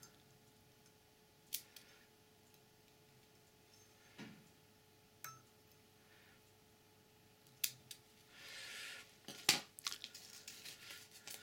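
Small scissors snip thread while a fishing fly is tied, a few sharp isolated clicks spaced apart in a quiet room, with a brief rustle near the end.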